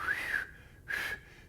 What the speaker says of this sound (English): that tension creates turbulence in the air, and I start to get the beginning of a whistle.